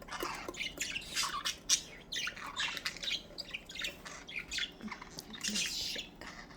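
Several budgerigars squawk and chirp in a steady, busy chorus, with sharp calls repeating close by at moderate loudness and no talk over them.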